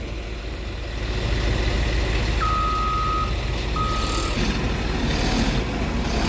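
A motor grader works on a road repair with a constant loud engine rumble, and two drawn-out reversing beeps sound partway through over the machine noise.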